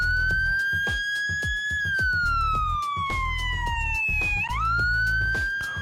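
An emergency vehicle siren in wail mode, as used by fire brigade and SAMU ambulances, sounds loud and continuous, with a single long tone that slowly falls, dips briefly and then rises again.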